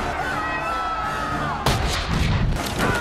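A loud cannon blast from a ship bursts out partway through a busy, noisy pirate battle scene in Pirates of the Caribbean: The Curse of the Black Pearl, followed by rumbling booms and crashing debris.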